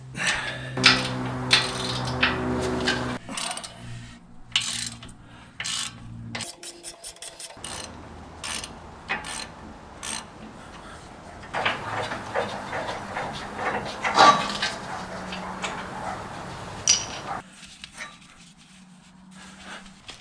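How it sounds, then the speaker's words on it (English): A half-inch ratchet with an 18mm socket rasps in quick bursts of clicks while removing the sway bar links on a Jeep Gladiator Mojave, with pauses between bursts and some metallic shuffling close by. "we're going to grab ourselves a 1/2-inch ratchet here, 18mm socket"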